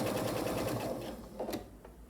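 A sewing machine stitches a flannel receiving blanket in a steady fast rhythmic whir, close and clear, slowing and stopping near the end for a back stitch.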